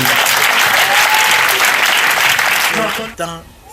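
A church congregation bursts into loud, sustained applause mixed with scattered voices during a healing testimony service. The clapping stays dense and close before dropping away abruptly near the end.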